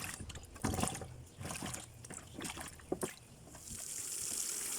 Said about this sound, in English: she's just going to rinse these pieces off a little bit